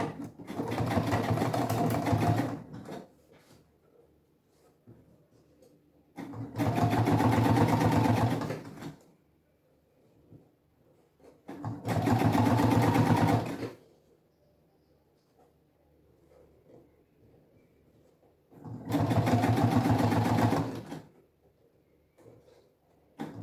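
Sewing machine stitching bias tape onto a fabric sewing-machine cover, running in four steady bursts of about two seconds each with quiet pauses between, close and fairly loud.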